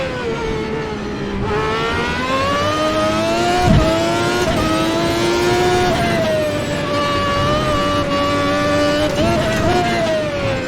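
A 1991 McLaren Formula 1 car engine screams loudly and close from onboard, its high pitch rising and falling through gear changes and throttle blips without pause.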